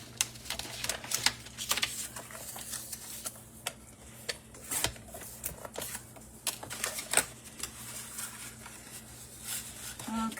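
Card paper is snipped and handled while making a double diamond card, giving a run of crisp, close ticks and cuts scattered over a low steady hum. No one speaks.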